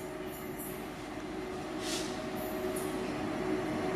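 A train rolls through a station in India, a loud steady rumble of wheels on rails with a faint squeal, the noise swelling slightly as the carriages pass close by.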